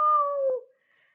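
A storyteller's voice imitates a cat meowing, one drawn-out, loud, close meow with a falling end, heard alone without other talk.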